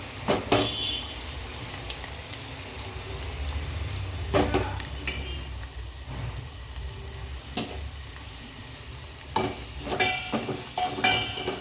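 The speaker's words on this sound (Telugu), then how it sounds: "తాలింపు అయితే రెడీ అయిపోయింది పప్పు రుబ్బేసి దాంట్లో పోసేస్తాను ఇప్పుడైతే" Ground dal for spinach dal pours into hot sizzling tempering, a steady close frying hiss punctuated by sharp metallic clatters of a spoon stirring against the pan, with no voices.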